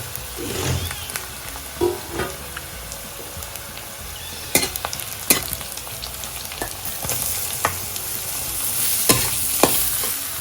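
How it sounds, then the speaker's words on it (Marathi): Onion and jackfruit sizzle in hot oil on a wood-fired stove, with a steady fry under scattered scraping stirs and sharp clinks of a utensil against the pan. "फक्त तेलात परतून घ्यायचे"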